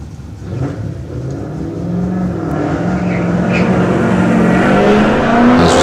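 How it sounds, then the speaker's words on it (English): Mark II Ford Escort race car climbing a hillclimb course in Australia after a hairpin, its engine note rising steadily in pitch and growing louder as it accelerates up the hill, heard alone. "As we see the Mark II Escort of Sean Stingers now making its way up the hill."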